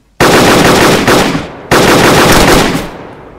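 Gunfire in a video game gunfight, two loud, sustained bursts of rapid automatic fire, the first cutting in sharply and fading, the second starting abruptly after a short dip and trailing off, no talk over it.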